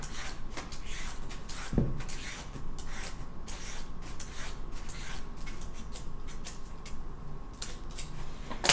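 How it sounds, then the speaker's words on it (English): A peeler scrapes the skin off an organic cucumber in a steady run of close, rasping strokes, with one sharper knock near the start and another at the end. "Just going to take the peel off of that."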